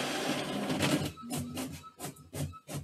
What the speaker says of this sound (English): it's going to be noisy with the printer for a second.